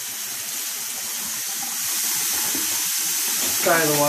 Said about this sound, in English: For the warm water rinse, I like to have it nice and strong.